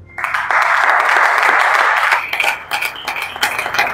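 A church congregation breaks into dense, loud applause that holds for about two seconds and then thins into scattered claps.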